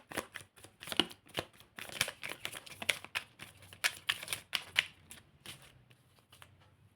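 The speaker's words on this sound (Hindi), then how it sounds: "My last shuffle." Tarot cards are shuffled by hand in quick, crisp riffling bursts, close and fairly quiet, with a steady patter that fades out near the end.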